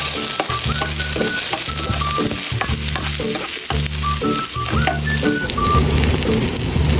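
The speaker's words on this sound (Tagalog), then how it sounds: "gisa na tayo. Syempre, ang bawang." Garlic sautés in a hot pan for a Filipino stir-fried bitter melon dish, with a loud continuous sizzle and frequent rhythmic scraping and stirring of a utensil against the pan.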